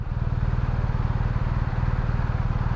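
Boxer twin engine of a 2020 BMW R1250RT touring motorcycle on the move, a steady low throbbing drone with a rapid pulsing beat, constant and close with no talk over it.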